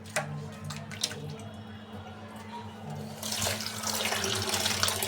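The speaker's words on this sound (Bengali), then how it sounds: "ধুয়ে নিই, পরিষ্কার করে নিই" Meat is rinsed under a running kitchen tap, with a few faint drips and clinks at first, then a steady close splashing stream of water filling the sink and washing over the pieces.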